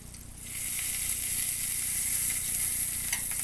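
Food sizzles in butter in a Lodge cast iron skillet, a loud, steady, close frying hiss that swells up after a brief quieter moment and holds evenly.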